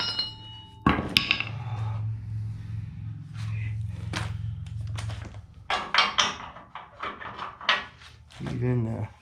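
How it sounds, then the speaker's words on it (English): Metal hammer strikes on a 1952 Studebaker 2R5 half-ton truck frame during a leaf spring job, several sharp clanks scattered among a steady low hum, with someone talking close by in between. "Got the hammer."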